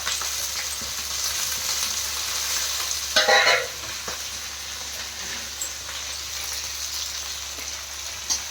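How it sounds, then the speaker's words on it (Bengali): Tomato, green chili and capsicum fry in a pan with a steady close sizzle, and a burst of louder spattering arrives as the vegetables are added, followed by stirring scrapes under the continuing hiss. "এই টমেটো দিয়ে দিলাম আর কাঁচা লঙ্কা দিয়ে দিলাম।"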